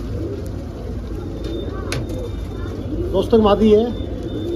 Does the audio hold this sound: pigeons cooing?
yes